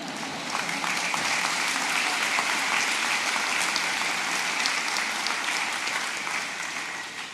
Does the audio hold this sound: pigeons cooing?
no